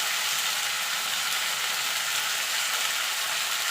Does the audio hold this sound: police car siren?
no